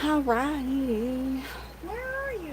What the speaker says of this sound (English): okay, look at the baby kitten